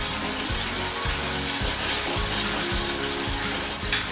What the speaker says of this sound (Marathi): आता आपण त्याला तेलामध्ये परतून घेऊया